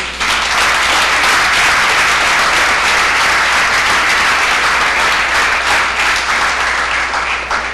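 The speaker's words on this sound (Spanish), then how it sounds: "Den un aplauso al Señor." Loud, sustained applause from a large church congregation, dense steady clapping filling the whole stretch with no talking over it.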